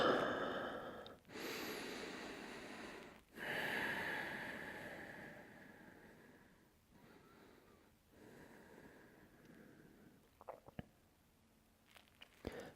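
Slow, relaxed breaths while lying face down on a yoga mat during a yoga class, with long soft inhales and exhales close by, fading quieter toward the end with a few small rustles.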